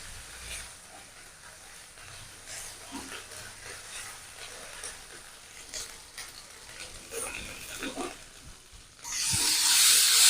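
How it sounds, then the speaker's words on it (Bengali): Chopped tomato frying in a pan for a prawn and pointed gourd dish, a soft steady sizzle with occasional stirring scrapes, swelling into a louder hiss near the end. "টমেটো কুচি টমেটোটা ভাজতে একটু টাইম লাগবে নরম হয়ে আসুক"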